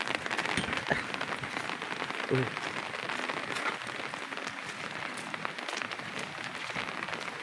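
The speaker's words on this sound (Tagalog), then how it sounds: "Ayan, umuulan." Rain falls in a steady, dense patter on a nearby surface, continuous and moderately loud, with a faint knock or two.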